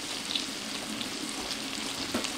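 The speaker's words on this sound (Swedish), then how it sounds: "Kokar kyckling, steker kyckling, kokar ris." Chicken sizzles steadily in a frying pan, a dense continuous hiss with faint pops and crackles heard up close, with no voices over it.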